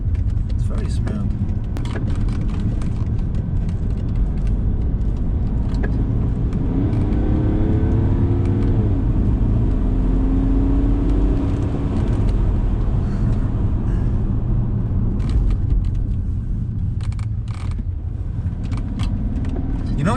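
Interior cabin sound of a BMW E60 535d diesel being driven: a steady, muffled low engine and road drone with occasional rising whirs, constant throughout, with someone talking over it.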